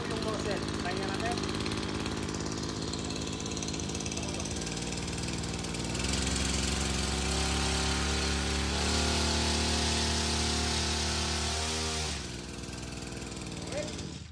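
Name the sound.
engine-powered sprayer with three nozzles running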